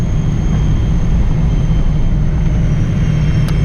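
Singapore Airlines airliner taxiing on the ground at Singapore after landing on runway 20R, a steady low cabin rumble and engine drone with faint high whine, continuous and without talk.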